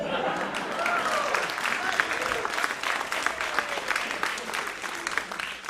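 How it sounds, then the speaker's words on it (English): An audience at a vaudeville magic show bursts into applause after a trick, a dense, sustained patter of clapping hands throughout with faint voices mixed in. "usually that's the first applause cue"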